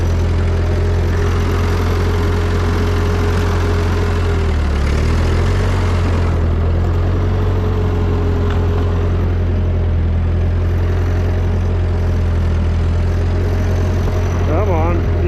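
An old Ford 2N or 9N tractor engine idles steadily with a low, rumbling drone throughout, close and loud, while someone talks over it.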